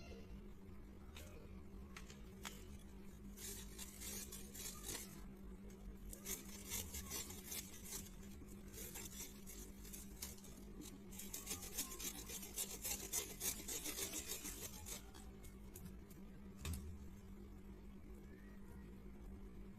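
Red radish is rubbed against a kitchen grater in a quiet series of rhythmic rasping strokes. The scraping is soft and close, with some louder passes in the middle.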